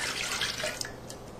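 Water pours steadily into a bread machine pan, a continuous close splashing hiss that thins out toward the end.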